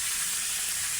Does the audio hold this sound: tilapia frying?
yes